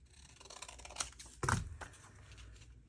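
Scissors make a couple of quick snips trimming paper for a purple journal, a sharp cut standing out near the middle against quiet, close handling sounds.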